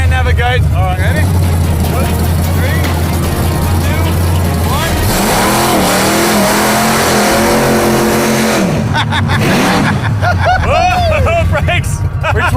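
A car engine revs hard with the accelerator pressed to the floor, a loud, rising, strained roar that climbs and falls in pitch. Voices and shouting run over it.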